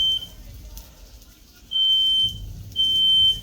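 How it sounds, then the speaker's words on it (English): Kitchen smoke alarm going off during a sous vide roast beef cook, sounding two long, loud, high electronic beeps after a brief first chirp, with faint voice and room noise between them. "there's the alarm gone off"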